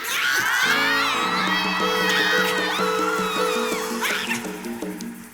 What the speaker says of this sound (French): poussent des cris de joie